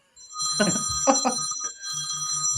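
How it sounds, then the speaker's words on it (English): An old rotary dial telephone ringing with a bright, steady electromechanical bell in two long bursts that carry over a brief gap, loud and close, with a low hum underneath. "who's got that rotary dial phone?"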